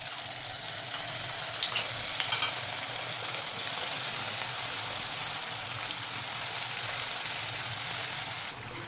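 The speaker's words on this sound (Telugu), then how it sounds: "ఇలా పకోడీ అంతా ఈ కలర్ వచ్చే వరకు వేయించుకోవాలి." Semolina batter pakodas deep-frying in hot oil, a steady dense crackling sizzle throughout with a few brief louder pops, no voices.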